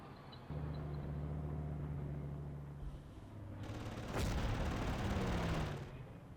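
Artillery pieces and a level bomber strike in the Panzer Corps wargame, a low rumbling engine drone followed by a sharp blast and a sustained roaring barrage that fades off, with no talking.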